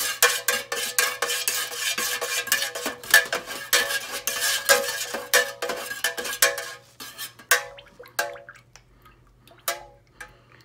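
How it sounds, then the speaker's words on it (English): Soy wax melted with fragrance oil, stirred vigorously in a container while making a wooden-wick candle; dense rapid scraping and clinking for about seven seconds, then slower, sparser taps and stirs, close and fairly quiet, with no talking. "I'm usually vigorously stirring it like this"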